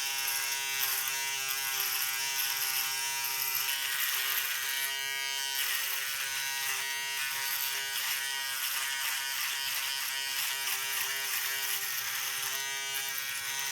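Remington F5 5800 electric foil shaver running while shaving, a close, continuous high-pitched buzz with slight rhythmic fluctuations as it moves over stubble, no talking.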